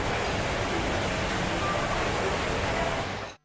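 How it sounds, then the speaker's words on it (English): Indoor waterfall inside a shopping mall gushing in a steady, dense broadband rush that holds evenly throughout, then cuts off abruptly at the end. "the glampers get to wake up to the gushing sounds of the mall's indoor waterfall"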